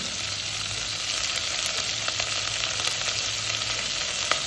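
Onions, curry leaves and green chilies sizzling in hot oil for khichdi, a steady close crackling fry with small pops and no voices.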